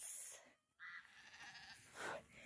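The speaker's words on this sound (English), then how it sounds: "Here's our pack of goats." Farm goats bleat nearby, two or three loud wavering cries separated by a brief quiet gap, close and clear with no talking.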